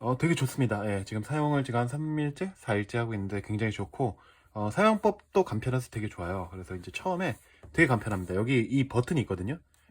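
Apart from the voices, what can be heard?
No distinct noise like a dog, phone or traffic.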